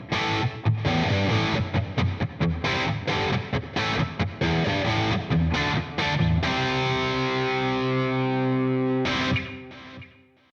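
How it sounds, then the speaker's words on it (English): Heavily distorted electric guitar reamped from a dry track through a Headrush MX5, playing loud choppy chords that give way to long sustained ringing notes before a final strike fades out, with no voices. "I reprocessed it, the dry track with reamping, and we got something that sounds like this."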